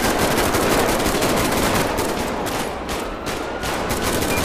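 Sustained automatic gunfire in a GTA police-mod shootout during a jewelry store robbery, loud and dense, with rapid overlapping bursts filling the whole stretch and no speech.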